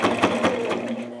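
A sewing machine stitches rank insignia and a nametape onto a patrol cap, its needle running in a steady rapid rhythm of close, even pulses that carry on without pause.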